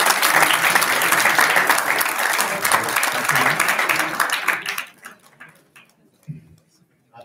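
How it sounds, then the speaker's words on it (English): Audience applause for a guest speaker at an entrepreneurship session, a dense loud clatter of clapping with a few cheers that holds steady for about five seconds, then thins out and fades to scattered claps and quiet. "So give a good round of applause to Madam Akriti Rawal."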